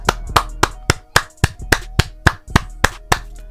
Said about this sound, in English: let me clap it up for my brothers